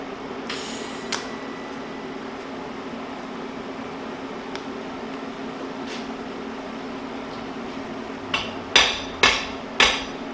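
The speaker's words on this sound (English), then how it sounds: "I'll tack one side and tap it down" A hammer taps a tack-welded metal part into place: a few scattered light knocks early on, then a quick cluster of four sharp ringing strikes near the end over a steady workshop hum.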